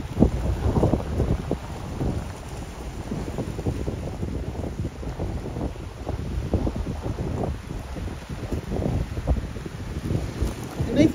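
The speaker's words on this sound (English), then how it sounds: "It may feel pretty gusty out here though." Gusty wind buffets the microphone on a beach at Waikoloa Village with waves nearby, producing a continuous low rumble that swells and eases in uneven gusts.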